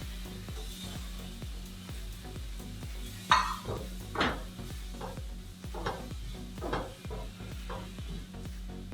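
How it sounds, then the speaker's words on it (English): Shrimp and mushrooms fry for fried rice in a pan, with a steady close sizzle and a few louder stirring scrapes and clatters, no voices. "I like mushrooms very, very fried, and the same with shrimps."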